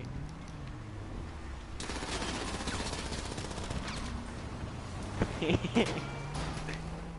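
Bursts of automatic gunfire in Grand Theft Auto V gameplay, a rapid rattle running under low background noise with a few sharper shots near the end.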